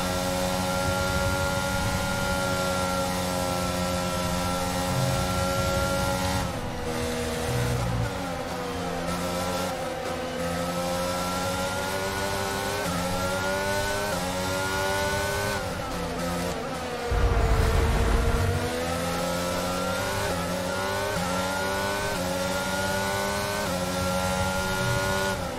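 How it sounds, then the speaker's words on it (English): Ferrari Formula 1 car in the F1 2022 racing game at the France Grand Prix, a high-pitched engine scream rising and falling through gear changes and corners, loud and continuous with a brief deeper rumble midway. "A very fast Ferrari."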